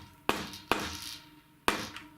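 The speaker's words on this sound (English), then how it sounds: "take your rubber mallet or hammer, plastic hammer, go round to the shaft and just give it a gentle tap" A rubber mallet taps the shaft of a Shimano front crankset on a carbon bicycle: three close, dull knocks, each with a short ringing decay, evenly spaced and alone.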